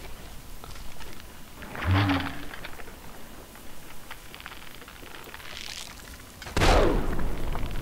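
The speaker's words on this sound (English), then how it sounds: "Throw a couple of frag grenades at you." Frag grenades in the video game Fallout 3 go off in two booming bursts, one near the middle and a louder one near the end, each a broad crackling blast over a noisy background with gunfire.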